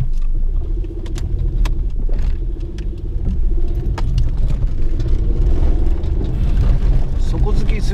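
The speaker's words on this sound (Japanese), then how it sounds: "本日最後の試運転をします。" A modified Suzuki Kei Sports with cut-down rear suspension on a test drive, a steady low engine and road rumble heard from inside the car with occasional rattles and clicks, fairly loud, and someone speaking briefly over it.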